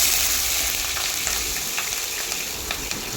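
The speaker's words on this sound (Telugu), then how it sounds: "నూనె వేడయ్యాక మెత్తలు శుభ్రం కడుక్కుని వేసుకుని" Washed dried fish frying in hot oil, a loud, steady sizzle and crackle with small pops throughout, close and without talk.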